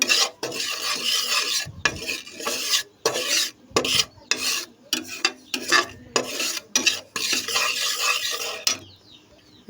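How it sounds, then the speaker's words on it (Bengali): Semolina being stirred while frying in oil on low heat, with a spoon scraping the pan in rhythmic rasping strokes separated by short pauses, close and alone. "কারণ এটা সুজি ভেজে নিচ্ছি লো হিটে,"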